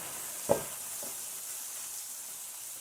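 Cabbage cooking down in a pan gives a soft, faint, steady sizzle, broken early by a sharp tap and a lighter knock from a utensil, with no voices.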